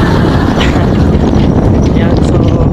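Strong outdoor wind buffets the microphone at a construction work site in Japan, making a loud, continuous roaring rumble that never lets up.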